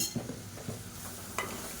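Quiet stirring of chili powder in a pan, with a few soft scrapes and clinks of a spoon over a faint sizzle.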